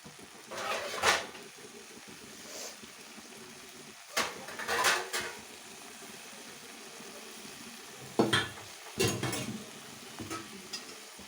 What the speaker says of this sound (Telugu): ఇలా ఫ్రై చేస్తున్నాను కొంచెం నూనెలో నూనె ఈ ఆకు కలిసేలాగా ఒక నాలుగైదు సార్లు అటు ఇటు తిప్పి